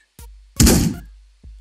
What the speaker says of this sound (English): I'm getting gun sounds as I'm actually shooting